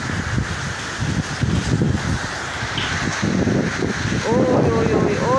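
Wind gusting through heavy rain in Muğla, Turkey, a steady broadband roar with rustling bursts, while a voice speaks briefly near the end.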